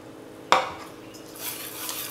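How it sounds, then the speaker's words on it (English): Milk is poured and whisked into buckwheat crêpe batter in a bowl, with a sharp clink at the start followed by soft, continuous swishing and scraping close by. "Now add a little bit of milk and whisk it in"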